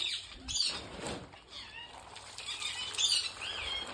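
A pet parrot beats its wings in quick, flurried bursts while being bathed with water on a hot day, close and fairly quiet, with rustling splashes in between.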